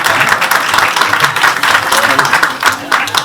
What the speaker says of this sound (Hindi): बहुत सारी तालियां महाराज जी के लिए।